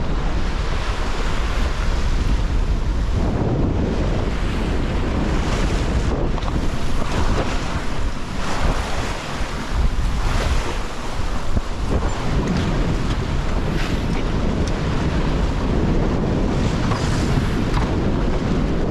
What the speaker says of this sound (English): And the waves are starting to come on deck.